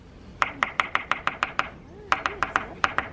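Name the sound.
pressing on frozen lake ice, ice creaking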